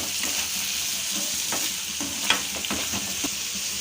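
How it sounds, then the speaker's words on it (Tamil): Onion, green chili and tomato frying in a pan, with a steady sizzle under repeated spoon scrapes and stirring clatter, close and fairly loud, no talk. "தக்காளி சேர்த்தனால லைட்டாக ஒரு தடவை மிக்ஸ் பண்ணி விட்டுக்கலாம்"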